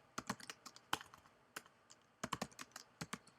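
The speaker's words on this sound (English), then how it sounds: "I will type in Google." Quick, crisp keystrokes on a computer keyboard typing a search, irregular bursts of clicks with short pauses, close and fairly quiet with no talking.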